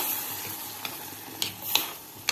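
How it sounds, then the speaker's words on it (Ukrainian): Potatoes added to a frying pan and stirred, a soft sizzle underneath with a few brief scrapes and clicks of a utensil, fairly faint and close, no talking. "Тепер прийшов час сюди додати картоплю. От, додаємо, перемішуємо"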